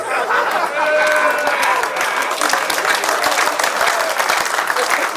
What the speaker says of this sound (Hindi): तो तालियां आप गलत जगह बजाते हो